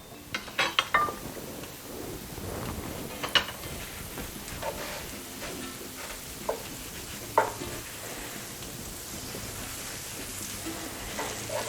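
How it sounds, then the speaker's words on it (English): Butter, two tablespoons, melting over low heat in a pan on the stove gives a soft, faint sizzle with occasional small crackles and light utensil taps; no one speaks. "Let the butter melt."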